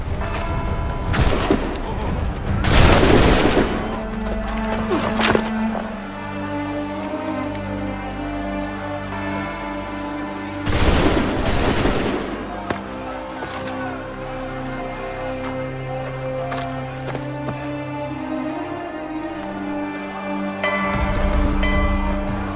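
Musket volleys crack out in Assassin's Creed 3, with two loud bursts of massed gunfire early and midway and a smaller one at the end, over a steady bed of music and low rumble.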